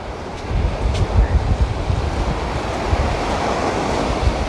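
Ocean waves break on a beach in a loud, continuous rush of surf, mixed with gusts of wind buffeting the microphone and no voices.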